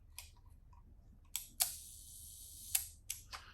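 A film camera's shutter is fired at 1/500 while it is being tested, giving several sharp close mechanical clicks, with one longer whirring burst in the middle, against a quiet room.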